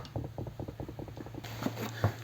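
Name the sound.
loosening a nut on a Honda 125 CB Twin engine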